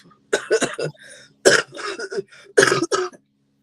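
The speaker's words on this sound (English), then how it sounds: "Yeah, and I've got a cough." A few harsh coughing bursts close by, separated by short pauses, with a throat-clearing quality.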